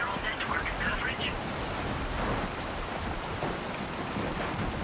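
A sandstorm in the video game Death Stranding 2 makes a dense, steady, rain-like hiss and rush of blowing grit that holds through the whole stretch, with talk faintly beneath.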